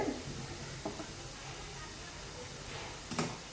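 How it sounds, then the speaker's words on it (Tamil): Spice masala sauteing in oil in a pan, a quiet steady sizzle with a couple of brief spoon knocks, heard alone. "சூப்பராக அந்த போட்ட மசாலாலாம் சேர்ந்து நல்லா வதங்கிட்டுருக்கு"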